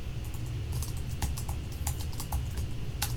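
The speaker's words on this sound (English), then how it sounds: "So I'll finish typing out the author list." Close-up typing on a computer keyboard while an author list is entered, irregular clicking keystrokes pattering along over a low steady background hum.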